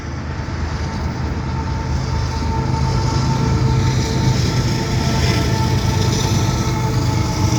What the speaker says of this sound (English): I've got a CP train